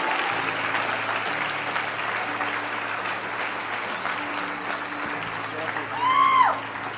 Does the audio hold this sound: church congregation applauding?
yes